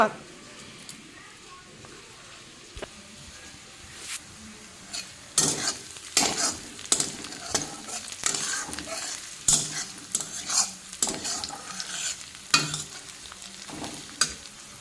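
An egg fries and is stirred in a pan at home. The sizzle is steady, and the utensil knocks and scrapes against the pan in irregular bursts, with a voice talking over it.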